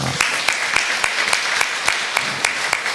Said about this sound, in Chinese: 那个师母我们拍手欢迎他们